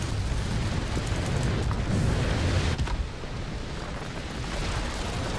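A heavy rumbling blast as an anti-aircraft gun is destroyed in the World of Warplanes video game, a loud sustained roar of low noise that eases slightly halfway through without fully dying away.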